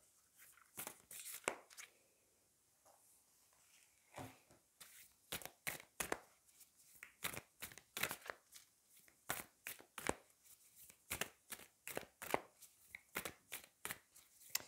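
Queen Mab oracle cards being shuffled and drawn, a run of quick papery slaps and riffles in uneven bursts, close and fairly loud with no talk.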